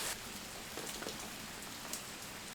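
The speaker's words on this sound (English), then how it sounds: "I love being outside because this rain, look at that" Steady rain falls outdoors beside a cooking setup with a Blackstone griddle, a dense, even hiss of drops on surfaces with a few louder patters, continuous and close.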